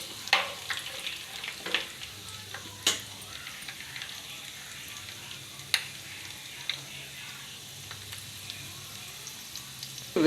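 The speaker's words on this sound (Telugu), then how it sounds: "అలాగే పగులుతుందండి వేరుశనగ పలుకులు వేపేటప్పుడు" Peanuts fry in a pan with faint sizzling and sharp scattered crackles and pops, irregular snaps standing out over a quiet background.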